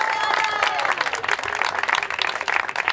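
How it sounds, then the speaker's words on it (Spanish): An audience at a nautical awards ceremony applauds for a few seconds, with dense clapping and crowd noise following the end of an announcer's voice. "Un aplauso, por favor."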